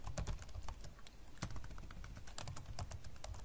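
Rapid keystrokes on a computer keyboard while code is typed, a dense run of crisp clicks with a few louder taps, close and fairly quiet with no talking.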